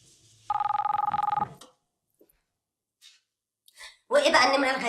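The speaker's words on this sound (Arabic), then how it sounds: "ما ترد على الموبايل. سيبيه رن،" A mobile phone rings with a rapid, trilling electronic tone for about a second, then stops; after a short pause with faint rustles, a person begins speaking nearby.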